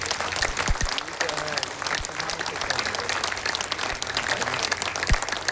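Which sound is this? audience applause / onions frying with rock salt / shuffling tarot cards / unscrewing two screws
audience applause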